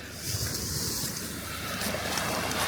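Surf rolls onto a beach on Thassos island, Greece, as a continuous broad wash of waves mixed with buffeting wind noise on the microphone, steady and fairly loud with no talking.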